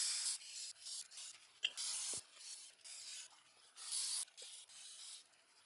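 Sandpaper rubbed by hand across a small turned wooden mini baseball bat, stepping through sandpaper grits, gives close, soft, hissing strokes in uneven bursts with brief pauses and no talk.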